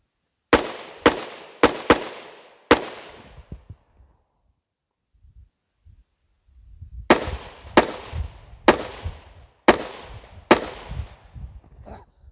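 Sharp, loud AR-15 rifle shots during a rifle qualification stage, four quick shots, a pause with faint rustling, then five more spaced shots, each with a short echoing tail.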